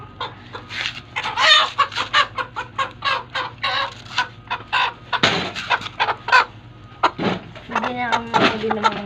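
Chickens clucking in a rapid run of sharp, close calls at a farmyard coop, with a person's voice mixed in between bursts.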